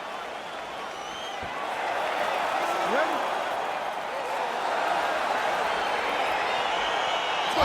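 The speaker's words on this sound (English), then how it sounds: "crowd getting excited as this fight gets underway" Steady roar of an arena crowd in the EA Sports UFC fighting game, a dense, constant murmur that swells slightly as a bout begins, with a short spoken question over it.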